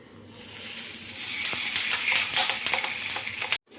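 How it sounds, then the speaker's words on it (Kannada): Masala sizzles and hisses in a hot pan for a banana leaf fish fry, a close, steady frying crackle that swells and then cuts off abruptly, with no talk over it. "ಇದನ್ನು ಕೂಡ ಫ್ರೈ ಮಾಡ್ತಿದ್ದೀನಿ."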